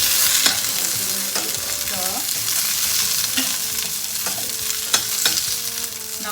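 Onions hit a pan with browned garlic for a South Indian onion tomato chutney, a loud continuous sizzle close by, with intermittent clacks and scrapes of stirring against the pan and no talking.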